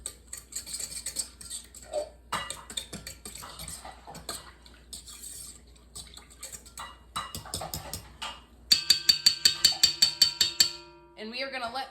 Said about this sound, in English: I am giving it a stir.